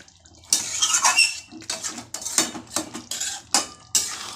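Chicken curry being stirred in a pot, with a metal spoon scraping and clinking in uneven bursts and wet, thick sloshing between them, close and fairly loud.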